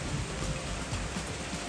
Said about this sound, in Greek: Βρέχει λίγο.